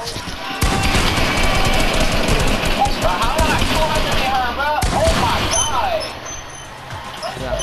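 Rapid gunfire bursts in an online shooter video game, loud and sustained for several seconds with sharp cracks, under excited voices talking over it.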